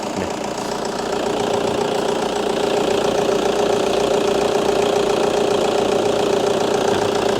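A 2011 Toyota Vigo Prerunner pickup with a 2.5-litre engine idles steadily with a rough, slightly knocking diesel-like rumble. It sounds close and continuous, with no voices.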